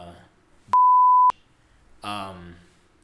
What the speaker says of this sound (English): I'm not sure if we're gonna put the little beep thing